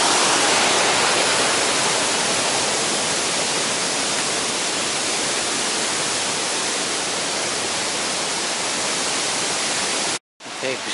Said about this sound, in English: I like the sound of running water in these Welsh torrents.